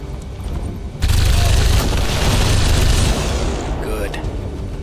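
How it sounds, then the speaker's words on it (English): A gas grenade bursts in XCOM 2 with a sudden loud, broad blast that holds as a dense roar for about two seconds, then eases into a hissing rumble. "Gas grenade"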